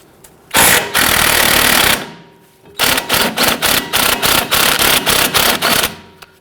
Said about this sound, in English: Using a 16mm deep socket, I'm going to go ahead and loosen the nut here on our sway bar end link.